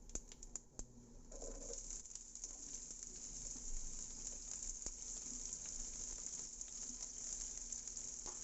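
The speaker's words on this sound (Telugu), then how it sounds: "ఇవి గోల్డ్ కలర్ వచ్చేంత వరకు వేయించుకుంటూ ఉండాలి" Sliced onion and curry leaves fry in hot oil, giving a faint, steady sizzle with light crackles and pops that runs evenly throughout.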